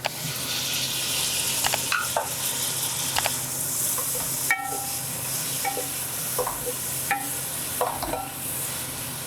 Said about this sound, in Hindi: अब मैं इसमें कटे हुए टमाटर डाल रही हूँ।